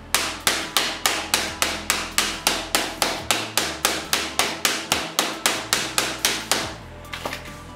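Repeated hard blows strike a phone's tempered glass screen protector, about twenty sharp, evenly spaced knocks at a steady fast rhythm, close and loud, ending in a few lighter rattles.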